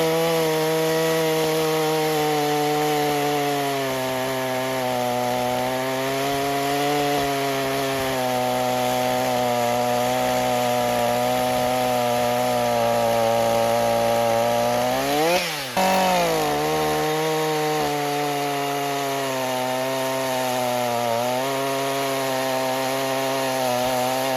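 A STIHL chainsaw runs loud and steady throughout, with its engine pitch dipping briefly partway through as it bites into wood.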